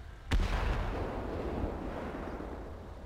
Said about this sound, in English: Okay, it was just an explosion.